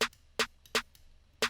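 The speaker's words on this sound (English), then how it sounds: "the snare is from my own sample pack," Snare drum sample from the Skydive sample pack for a Japanese trap beat, struck four times in an even rhythm, each a loud, bright, snappy crack with a short tail, heard alone.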